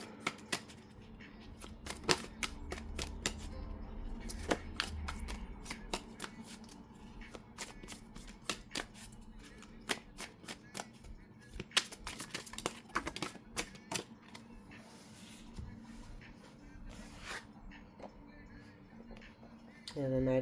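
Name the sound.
shuffling tarot cards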